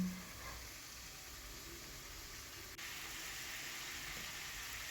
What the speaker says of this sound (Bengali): এখানে মাংসটাকে বেশ একটু ভেজে নিয়েছি